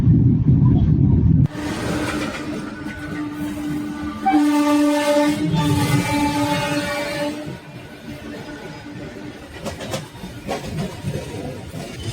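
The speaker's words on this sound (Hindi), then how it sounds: "और अब हमारी ट्रेन ने भी एक्सीलरेट करना स्टार्ट कर दिया है" The Jammu Mail passenger train runs and picks up speed on an Indian line, with a loud steady rail rumble, a long sustained horn blast in the middle, and continuous wheel and carriage noise.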